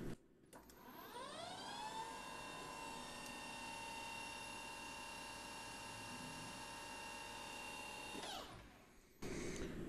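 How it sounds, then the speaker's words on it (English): A pyramid spotting drill spins up to 2000 RPM on a BNC-style connector part, holding a high-pitched steady whine with strong harmonics for about eight seconds, then winds down and stops. "Spotting with a pyramid spotting drill at 2000 RPM."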